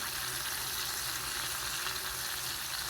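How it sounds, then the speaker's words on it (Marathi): Garlic and cumin tempering fries in hot oil, a steady close sizzle that holds evenly throughout with no talk. "लसूण आणि जिऱ्याच्या फोडणीमध्ये ना चांगलं परतून द्यायचं आहे दोन तीन मिनटं"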